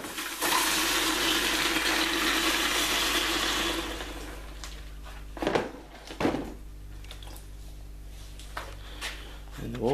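Water is sprayed over a fresh stick weld to cool it, starting as a loud steady hiss and rush that fades after a few seconds into quieter clicks and a couple of brief sputters.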